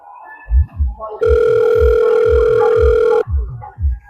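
A steady telephone dial tone hums for about two seconds, set among soft rhythmic thumps before and after.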